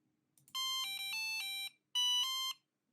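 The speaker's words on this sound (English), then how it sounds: "if you press that call service button, you'll hear a little notification sound" A Sonoff NSPanel smart-home wall panel plays its notification tone: two bright electronic chime phrases, the first longer with stepped pitches, the second shorter, heard clearly against silence.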